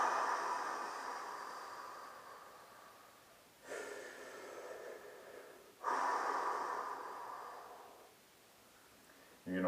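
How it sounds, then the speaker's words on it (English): Slow, controlled breathing with long inhalations and longer exhalations, heard close and soft as a few airy breaths with quiet gaps between them. "focus on breathing as in 3 to 4 seconds inhalations and 5 to 7 seconds out"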